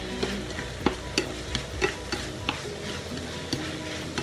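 Sweet and sour chicken being stir-fried, with a steady sizzle under repeated sharp clinks and scrapes of a utensil against the pan, some eight or nine taps at an uneven rhythm, fairly close and moderately quiet.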